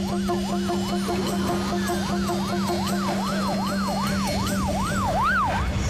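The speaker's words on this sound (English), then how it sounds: "dispatched a high-speed ambulance of the future" A futuristic high-speed ambulance siren wails in a steady, repeating rising-and-falling sweep over a constant low tone, loud and continuous with no voices.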